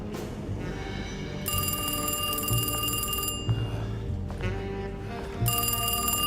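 An old-style office telephone in the video game Alone in the Dark rings in two long bright bursts separated by a pause, loud and clear with no talk.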